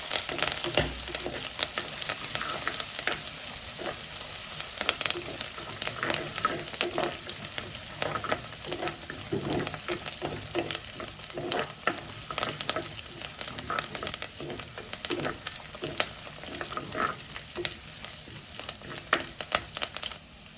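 Cinnamon bark and cardamom frying in oil in a pan for a beef curry, a steady dense sizzle with crackles and stirring scrapes running throughout, close and fairly loud with no talk.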